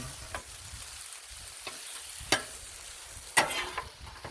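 Stir fry sizzling on a flat griddle, a steady crackling hiss with sharp scraping and clinking hits of a spatula at irregular moments.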